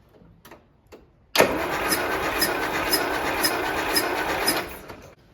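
A Land Rover Series 3 engine cranks over on the starter during a compression test of cylinder three, a loud steady churning that lasts several seconds after a few faint clicks, then cuts off abruptly.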